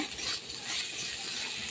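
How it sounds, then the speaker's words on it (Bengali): Potato slices with turmeric and salt sizzle in hot oil while being stirred, a close, steady crackling hiss with occasional scraping. "আলুটাকে একটু তেলে ভেজে নিতে হবে"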